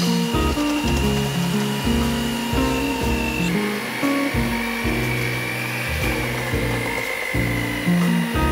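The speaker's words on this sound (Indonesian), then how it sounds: "Jadi langsung aja sekarang kita mixer kurang lebih sekitaran 7-8 menit ya." An electric mixer beats es teler batter until thick and evenly blended, a continuous motor whir with a steady, loud drone and shifting lower tones throughout.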